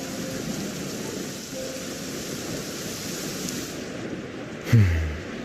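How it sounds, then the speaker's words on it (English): Steady heavy rain in the Clorinde story quest of a video game, a continuous dense hiss that holds throughout, with a brief low thump near the end. "This heavy rain must be quite an inconvenience for you."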